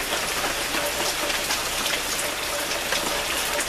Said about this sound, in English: It's actually raining in California.